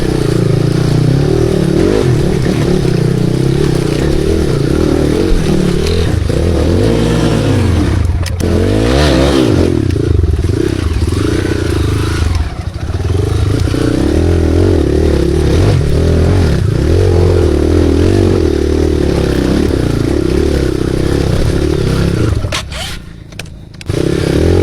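Motorcycle riding over a rough, rocky dirt road washed out by rain, the engine droning steadily and loudly throughout with clattering and scraping from the uneven surface, briefly easing near the end.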